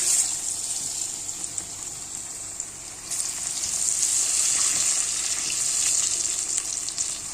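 Potatoes drop into hot oil in a home kitchen and fry with a steady, bright hiss and crackle that swells louder partway through and keeps sizzling.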